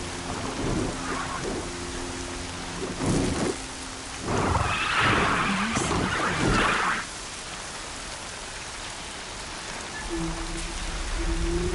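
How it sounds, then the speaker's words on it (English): A thunderstorm in the video game Horizon Zero Dawn: steady rain hisses throughout while loud rolling thunder crashes and rumbles in the middle, with a few faint tonal game sounds near the start and end. "Storm's been in the air for a while."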